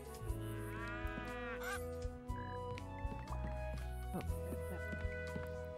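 Cattle mooing in the Lemon Cake farming video game, sounding in repeated low calls over a steady game music bed, with a person talking across the clip.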